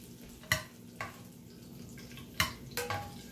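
Veal cutlets set down one by one to cook, giving a few sharp, close contact sounds with a faint sizzle between them.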